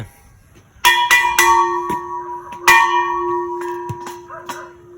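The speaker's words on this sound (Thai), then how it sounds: "เดี๋ยวมีไอ้นี่เคาะด้วยนะครับ ระฆังสมัยเก่าเลยนะครับ" An old-style bell is struck inside a small cave about seven times in uneven succession. Each strike rings clearly and sustains over a quiet background.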